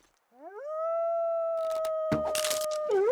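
A timber wolf howls in a video game, one long rising then steady tone with harmonics, loud and close, while a burst of clattering game noise and a brief growl come in underneath toward the end.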